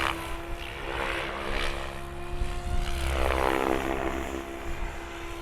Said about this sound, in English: This helicopter is still a beautiful, powerful performance machine.